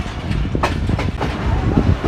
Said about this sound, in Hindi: हमारी 18 डाउन मिलत एक्सप्रेस अप्रोच बना रही है Shorkot cantt junction railway station पर